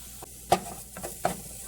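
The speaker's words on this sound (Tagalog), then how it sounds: "isahin ko lang ang sibuyas at saka bawang sa konting mantika na galing sa balat ng manok" Onion and garlic sauté in a little oil rendered from chicken skin, a soft steady sizzle punctuated by three or four quick stirring scrapes of a utensil against the pan.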